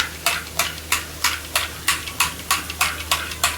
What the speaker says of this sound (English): I am mixing red Kashmiri chili powder in it. Nicely whisk it, whisk it.